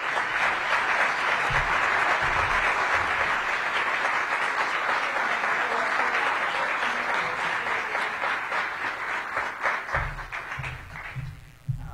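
An audience at a downtown planning kickoff meeting applauds after the mayor's speech, a loud, sustained wash of clapping that gradually thins and fades toward the end, leaving a few scattered claps and some low thumps.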